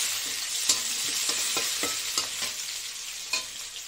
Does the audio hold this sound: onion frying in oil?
yes